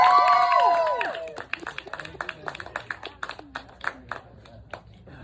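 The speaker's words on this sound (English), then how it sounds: "big round of applause for Tyler" A comedy club audience applauds comedian Tyler, the headliner, with scattered, fairly close hand claps that fade out unevenly after a loud opening burst of voices and whistles.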